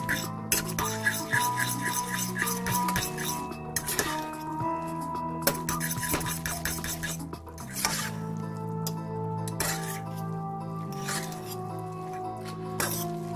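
A fork stirs microwaved instant rice noodles in a container, giving wet squishy drips and light metallic clinks against the bowl, close and intermittent, with a few short quiet vocal sounds.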